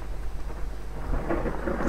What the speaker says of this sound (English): I can hear thunder.